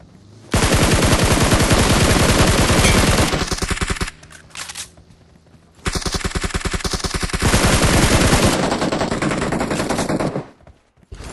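Loud, rapid automatic gunfire in a shooter video game, two long sustained bursts separated by a brief quieter pause, with a short burst at the end.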